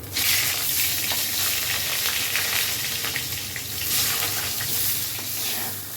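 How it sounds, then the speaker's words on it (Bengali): Long slices of brinjal frying in hot oil, a loud continuous crackling sizzle heard up close with faint stirring underneath. "এবার লম্বা লম্বা করে বেগুন কেটেছি এটা ভেজে নেবো"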